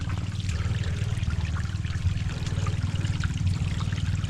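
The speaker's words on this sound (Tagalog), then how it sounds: "Ay, may bukal pala dito." A natural spring of water trickling steadily in the open, a continuous close babble without talk.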